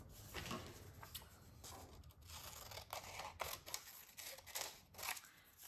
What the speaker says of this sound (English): so I'm gonna cut it a little bit smaller.